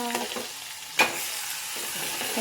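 Curry leaves and thecha hit hot oil and crackle, with a sharp spluttering burst partway through followed by a steady sizzle and spoon scraping.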